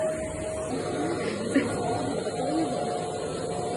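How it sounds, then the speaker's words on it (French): A household vacuum cleaner drones steadily at close range, a constant whirring hum with a thin whine on top that never lets up, while a voice talks faintly over it. "j'arrête de passer l'aspirateur"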